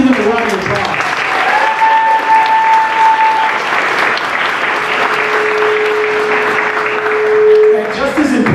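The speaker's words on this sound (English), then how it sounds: "Please give them a round of applause." Loud, sustained audience applause at a community event, a dense roar of clapping with faint voices and whistles mixed in, fading away at the end.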